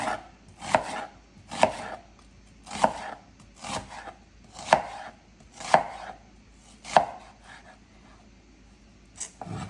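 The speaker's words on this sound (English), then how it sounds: "Just dicing this onion." A knife dices a sweet onion on a cutting board in a steady series of about eight crisp, close chops, evenly spaced roughly one per second, with quiet pauses between strikes.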